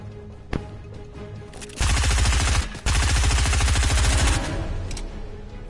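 Rapid automatic gunfire from a Minecraft adventure map rattles in two loud sustained bursts, separated by a brief gap after a single sharper shot, with no talking.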